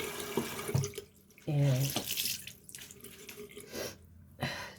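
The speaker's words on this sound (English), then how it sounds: "I'm just going to go ahead and rinse this off" A tap runs in short bursts into a sink to rinse off a charcoal face mask, with splashes and water stopping and starting, close by, as someone talks briefly over it.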